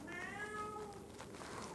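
A fat, well-cared-for house cat meowing, one drawn-out whiny meow with a falling pitch, close and fairly clear over a noisy room background.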